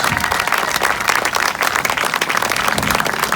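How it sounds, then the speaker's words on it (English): Audience applause for the actors at a centennial event marking the Jack Dempsey vs. Jess Willard heavyweight bout in Toledo: dense, steady clapping from a crowd, loud and continuous throughout with no talk over it. "How about a nice round of applause for our actors?"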